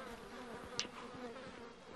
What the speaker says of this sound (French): J'entendais des abeilles dans le jeu